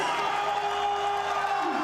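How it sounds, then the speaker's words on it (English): A cricket crowd at a Pakistan vs Sri Lanka ODI roars in celebration of a century, a dense, sustained wash of cheering that sounds distant and broad throughout. "And the crowd in rapture."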